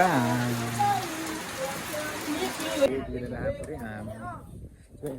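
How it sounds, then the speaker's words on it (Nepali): Steady rain hissing loudly while people talk nearby on a hill hike near Pokhara; the rain noise drops away partway through and the voices continue. "अझै पानी पर्दै"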